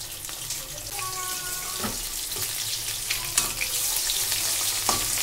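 Chicken pakora frying in hot oil, a continuous crackling sizzle over a low hum, with scattered clinks and scraping from stirring and a few sharper pops.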